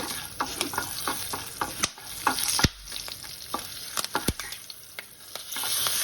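Green chillies and dried red chillies fry in oil with lentils for a chikkudu kaya curry, a steady crackling sizzle broken by sharp spoon clinks and scraping stirs against the pan, close and moderately loud with no talk.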